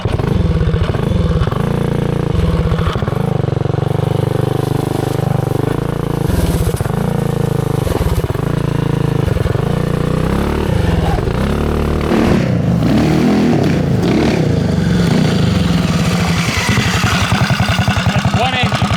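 A twin-engine go kart roars loudly and continuously nearby on its first test ride, the engine note rising and falling with throttle changes, rattling and clattering, while voices are partly buried under it.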